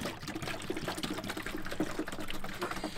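Water is poured to fill a Fresair 12V cooler inside a van, a continuous splashing, trickling flow with no voices over it.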